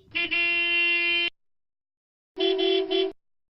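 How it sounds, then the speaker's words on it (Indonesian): A car horn in Sakura School Simulator honks twice: one long steady blast, a pause, then a shorter second honk, loud and clear with no talking. "Iya bun, itu suara lakson mobil temen Jara"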